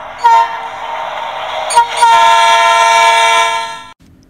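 Thomas the Tank Engine, a steam tank engine rolling along a new branch line, gives a loud, sustained, steady whistle over the rumble of the train on the tracks, with no talking.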